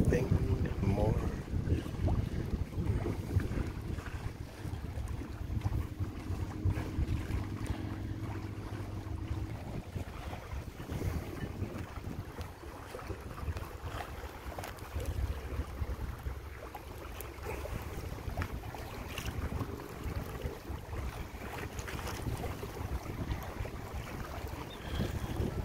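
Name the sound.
wind while sailing a Compac 19 sailboat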